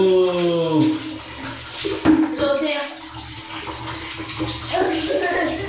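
Water runs steadily from a shower while a pet is being washed, and voices talk over the continuous splashing spray.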